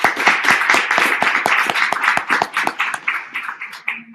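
A small audience claps for Benedetta after her presentation. The claps are close, quick and rhythmic, then thin out and stop near the end, with no talk over them.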